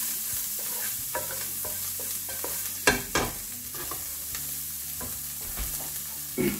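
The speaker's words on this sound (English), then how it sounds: "This pinch of salt and black pepper, about half a spoon. I'm going to mix this together." Salt and black pepper being stirred into a seafood mix in a hot pan: scraping utensil strokes and a few sharp clanks over a low, constant sizzle, close and without speech.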